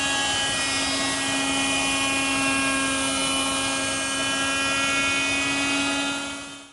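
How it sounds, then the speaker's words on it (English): A router at a router table cuts a double bead along a wooden table leg, a loud, steady high-pitched motor whine with cutting noise that holds evenly and then winds down at the end. "That's done at the router table."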